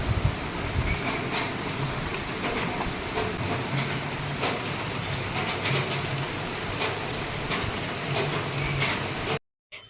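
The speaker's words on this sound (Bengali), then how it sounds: "এমন বৃষ্টির আওয়াজ হচ্ছে না যে পাশে দাঁড়িয়ে যদি কেউ কথা বলে তার কথা শোনাটাও মুশকিল হয়ে যাচ্ছে" Heavy morning downpour heard from indoors, a dense, steady roar of rain drumming on surfaces, loud and unbroken until it cuts off at the very end.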